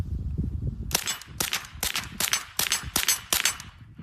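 Seven sharp suppressed gunshots from a 9-hole Kriss Vector fitted with a .45 ACP suppressor, fired in a steady, fairly quick rhythm, each a crisp crack with a short tail, close and loud over faint ambient noise.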